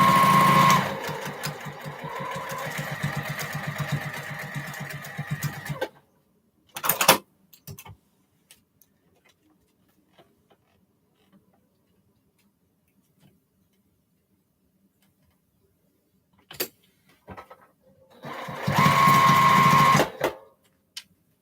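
A sewing machine stitches a quarter-inch seam on a cathedral window quilt block, running in two bursts of rapid, close, humming stitching separated by quiet pauses and a few small clicks.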